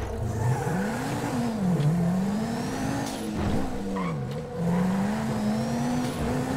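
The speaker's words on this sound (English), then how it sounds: "Look at the sound of that freaking turbo!" A turbocharged car engine revs loudly and continuously in Grand Theft Auto V, its pitch climbing and dipping through several surges, with faint tire noise and no talking.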